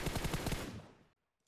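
A rapid burst of automatic gunfire in the PUBG Mobile game on a Lava Z6 phone, around half a dozen quick, loud shots in under a second, followed by an abrupt drop to silence.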